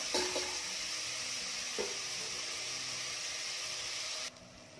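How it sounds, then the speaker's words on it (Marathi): Chopped onions with a little salt frying in a pan, giving a steady, moderately quiet sizzle with a couple of faint clinks, ending abruptly near the finish. "कांदा रंग बदलेपर्यंत छान भाजून घेऊया"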